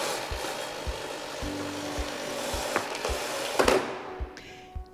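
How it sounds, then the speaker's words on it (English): A Miele Complete C3 vacuum cleaner automatically rewinding its power cable gives a steady rubbing, ratcheting whir with regular soft knocks, building briefly before the cord snaps home and the noise stops abruptly. "When you're finished, simply rewind the cable automatically."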